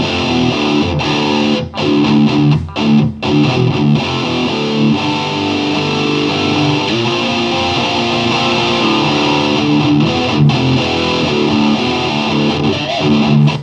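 A distorted electric guitar plays chugging riffs and sustained chords through an amp simulator, with brief palm-muted stops early on. It is loud and continuous, with no talking.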